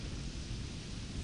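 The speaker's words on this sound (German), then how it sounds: "Oh, es regnet." Rain with thunder in the game Risen: a steady, soft wash of rainfall hiss with a low rumble beneath, continuous and fairly faint throughout.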